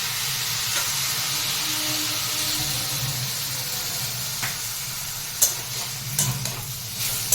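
Mustard-poppy seed paste hits a hot pan for a drumstick flower curry, giving a steady, moderately loud sizzle and hiss with stirring and a few sharp scraping clinks toward the end.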